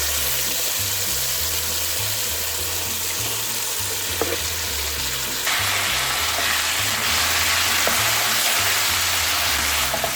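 Pumpkin (petha) halwa cooking on full gas in a pan of ghee and sugar, a steady close sizzle and bubbling from the watery pumpkin with occasional stirring clinks, no talk.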